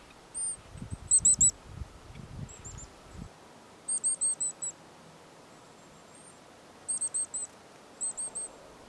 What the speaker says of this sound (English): it gave a high-pitched Z alarm call